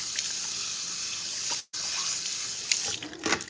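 Tap water runs steadily into a salon shampoo bowl while a client's hair is washed, a continuous close hiss with a brief break and a few splashy spurts toward the end.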